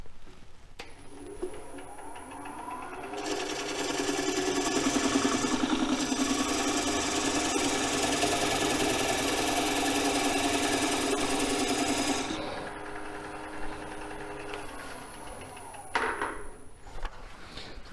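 A wood lathe spins up and turns a rainbow poplar bowl blank while a parting tool cuts into it, giving a steady loud whirring hum with scraping tone for several seconds before the motor winds down.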